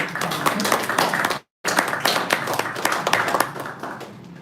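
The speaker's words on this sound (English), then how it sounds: "I give him a clap." Wedding guests clap together at a ceremony, a dense patter of hand claps with a brief pause, then continuing at steady strength throughout.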